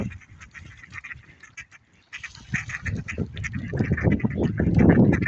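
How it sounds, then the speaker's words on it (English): A large flock of ducks quacking and honking outdoors, the calls sparse and quieter at first, then swelling into a loud, dense chorus of overlapping quacks close by. "Oh my lord, there's about 9 million ducks incoming."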